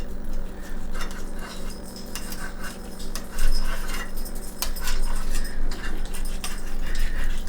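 A knife works through a 9-ounce steak to trim off the fat, giving clicky metallic scrapes and taps against a plate in an irregular rhythm, close and fairly busy.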